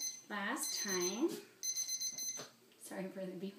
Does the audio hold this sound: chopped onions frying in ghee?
no